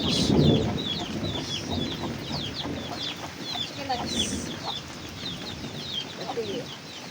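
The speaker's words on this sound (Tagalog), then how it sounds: "Gutom ang mga chicken manok." Several chickens cluck and chatter close by, busy overlapping calls with a brief flutter of wings and faint background noise.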